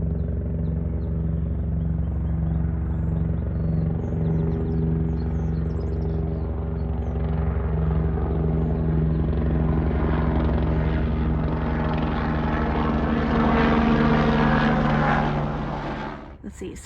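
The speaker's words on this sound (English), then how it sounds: "here comes a helicopter" A helicopter's rotor thumps steadily and its engine roar grows louder as it approaches, filling the air before cutting off abruptly.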